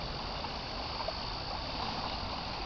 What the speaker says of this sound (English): Landfill is discharging to Sulfur Creek to the Lackawanna River.